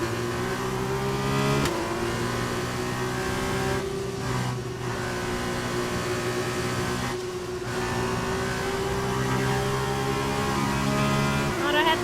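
A Formula 2 car in F1 2021 holds a loud, steady engine drone with brief dips and gear-change jumps in pitch, running continuously under a faint voice.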